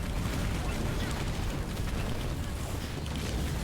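Grenade blasts in Halo Wars 2 rumble as a dense, continuous wash of explosive noise, loud and sustained throughout with no distinct pauses between detonations.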